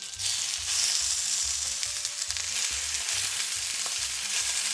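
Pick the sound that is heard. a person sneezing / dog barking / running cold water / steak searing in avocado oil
steak searing in avocado oil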